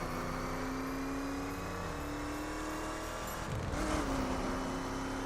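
A Chevrolet Silverado trophy truck engine in The Crew video game, a steady droning hum at moderate level, rising briefly in a rev near the end.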